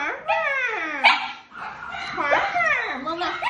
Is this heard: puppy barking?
yes